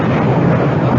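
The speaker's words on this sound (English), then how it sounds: "Thunder." A dense, loud low rumble of thunder from a radio drama sound effect, a brief continuous roar with no voices.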